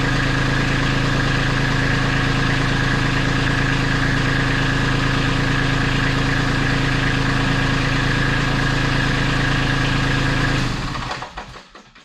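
A Kubota B2650 compact tractor engine idles steadily and close by after start-up, a constant low rumble with even vibration that runs without a break, then cuts off abruptly near the end. No one speaks.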